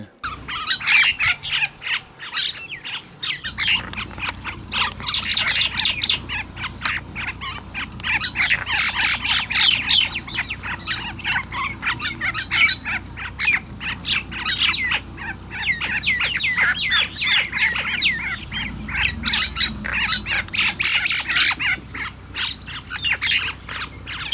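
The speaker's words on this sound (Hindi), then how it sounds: "इन मैनाओं को आपस में अक्सर लड़ाई झगड़े करते भी देखा गया है" Common mynas squawk and screech in a fight, with harsh, overlapping calls repeating nonstop and loud for the whole stretch, close by and with no talking.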